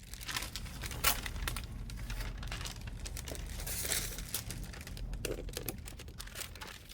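Tracing paper is crinkled and shifted by hand under the door of a 1958 Ford truck, giving close, continuous rustles and crackly crumples over several seconds.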